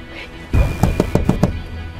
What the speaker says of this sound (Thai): คุณมาเคาะกระจกรถฉันทำไม